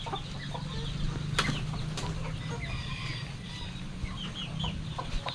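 Newly hatched chicks and other poultry peep and cluck around a coop on a rainy day, with scattered high chirps and a few louder calls over a low, steady background.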